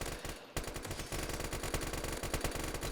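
Rapid automatic gunfire in the Roblox shooter Pulse, a loud sustained stream of shots after a brief gap at the start, fast and evenly spaced.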